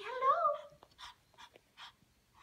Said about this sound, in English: Such a beautiful puppy.